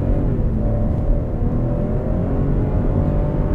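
A 2020 Chevrolet Onix Plus with a 1.0 engine pulls hard down an empty street, a steady loud low engine drone and road rumble with a gradual rising tone, heard from inside the car with no talking.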